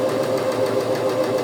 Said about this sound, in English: I can also increase the speed while sewing